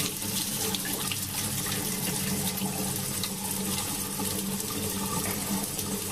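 Tap water runs steadily into a container while sprouting wheat, a continuous loud splashing gush with no pauses and no talking.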